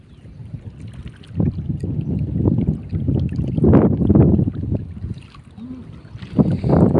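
Strong outdoor wind gusting across the microphone at a riverside fishing spot for Kasoop fish, with swelling rumbling blasts rising and falling throughout and a louder gust near the end.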